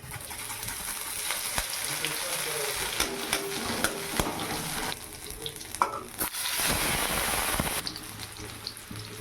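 Cumin seeds, bay leaf and grated ginger sizzle in hot oil in a wok, a steady crackling hiss with sharp pops and stirring clatter, close and fairly loud with no voices.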